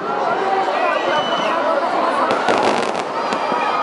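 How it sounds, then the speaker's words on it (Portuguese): New Year's 2020 fireworks burst over Praça Panteão town square, a loud continuous roar of rumbling explosions with a flurry of sharp crackles near the end, with crowd chatter underneath. "E os fogos que iluminam o céu, aqui na Praça Panteão, traz a perspectiva de um grande ano"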